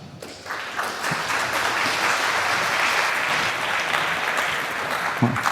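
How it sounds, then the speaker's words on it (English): A hacker-conference audience breaks into loud, sustained applause for a speaker. The clapping swells quickly after a brief quiet start and stays full and dense to the end. "So, huge applause for Pete,"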